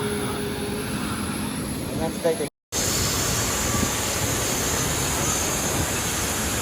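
An airplane's engines drone as a steady, loud broadband roar while a first-time flyer boards, with a voice speaking briefly beneath the noise and a short cut partway through.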